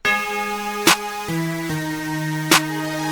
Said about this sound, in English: So with the clap, I layer on with a snare. Sounds like this.